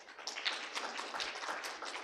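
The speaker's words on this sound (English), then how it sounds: "Can we have a big round of applause for our panelists?" A conference audience at Livelihoods India 2022 claps for the panelists, a short burst of scattered, moderately faint applause with no talking over it.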